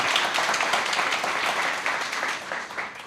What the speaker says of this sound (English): you can applaud that one